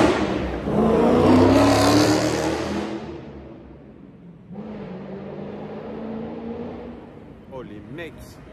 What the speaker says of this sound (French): C'est terrible le son de ces bagnoles là.